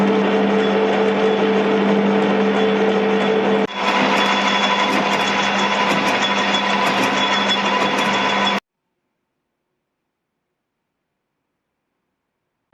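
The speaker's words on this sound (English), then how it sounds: "I'm going to turn this down to 14 mil and use that." A metal lathe turning a steel rod down to 14 mm gives off a loud, constant motor whine with a steady high tone, briefly dipping once, then stopping abruptly and leaving silence.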